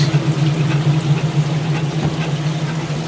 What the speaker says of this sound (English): Oh wow, it's actually draining and working.